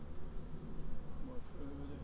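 Honey bees hum steadily on hive frames as a nucleus colony is inspected in a homestead garden, a dense, continuous low drone close by with a faint voice beneath.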